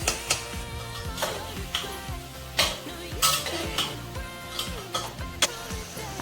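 Pav bhaji vegetables being stirred in a pan, with repeated clanks and scrapes of a spoon against metal over a faint sizzle, the strokes landing close and irregular, without speech.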